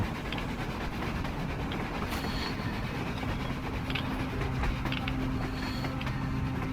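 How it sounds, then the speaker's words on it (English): A train in the video game Metro Exodus rumbles past steadily with a continuous low mechanical roar and faint clattering, no voices over it. "A train! A damn train on the surface!"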